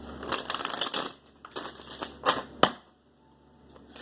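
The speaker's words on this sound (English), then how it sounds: "let's take some more cards here" Tarot cards are drawn and handled close by, with a clustered rustle and snap of card stock, a few quick slaps, and then a sharp single flick before it goes quiet.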